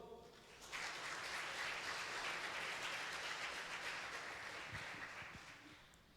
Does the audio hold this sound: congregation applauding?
yes